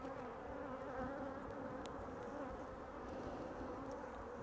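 Honeybees hum in a dense, continuous buzz around an open hive during Apivar varroa mite treatment, a steady close swarm drone with no voices over it.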